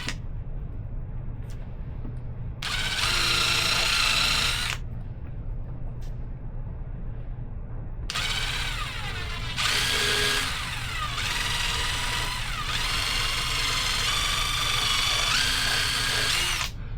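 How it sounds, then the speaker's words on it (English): A power drill bores holes into a toddler-size 2T Vans shoe: a short, loud, close whining burst, a pause, then a longer run of drilling with shifting pitch as the bit bites and speeds up. No one speaks. "You drill a couple of holes in it right here."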